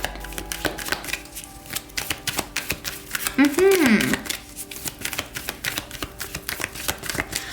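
Tarot cards shuffled during a card reading, a rapid run of crisp papery taps and riffles in an uneven rhythm, close up, with a brief vocal sound partway through.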